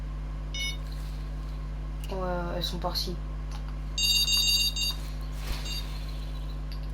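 Short electronic beeping from a carp fishing bite alarm, brief bursts over a steady low hum, with people talking nearby in French.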